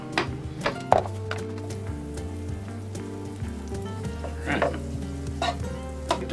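Flap steak fries in a hot pan for bourbon and brown sugar steak burritos, a constant close sizzle with occasional thunks as the meat is moved, while steady tonal music plays underneath.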